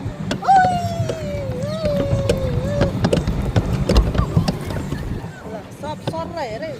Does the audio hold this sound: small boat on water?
yes